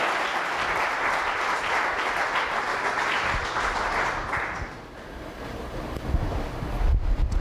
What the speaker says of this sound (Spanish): Dale un aplauso ahí fuerte al Señor